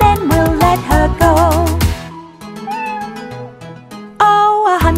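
Sung meows voice a cat in a bouncy children's farm-animal song, with a voice imitating the cat in repeated melodic cries over a loud, bright musical backing.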